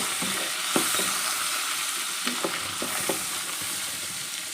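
Sweet corn kernels stirred and frying in melted butter with a little oil for a spinach cheese corn sandwich: close, steady sizzle with several sharp scraping clicks of a spoon against the pan, no voices.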